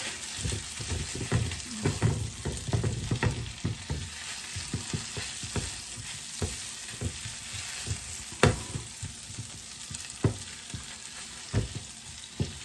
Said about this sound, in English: Stir until that butter's all melted and combined.